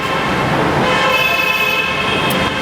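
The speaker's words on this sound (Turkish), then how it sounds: "Her yerden yine sesler, gürültüler, kornalar, trafik bir yandan." Busy night street traffic in Mumbai, India, with car horns tooting over a steady roar of engines and city noise.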